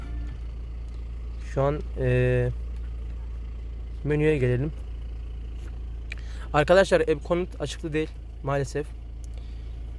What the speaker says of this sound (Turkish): Arkadaşlar duyuyorsunuz aracın sesini.